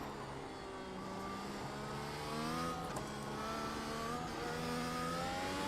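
A race car in iRacing is pushed hard around the Nürburgring Grand Prix circuit, its engine holding a steady high-pitched drone with rising and falling revs and gear changes, close and continuous with no talk.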